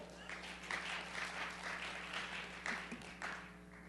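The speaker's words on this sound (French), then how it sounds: "On les applaudit" Congregation applause at a French-language church gathering, moderately quiet clapping from many hands with some sharper individual claps standing out, set against a low steady hum.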